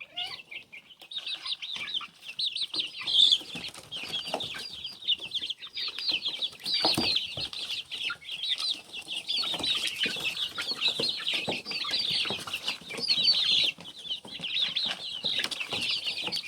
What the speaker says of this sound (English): little baby chicks.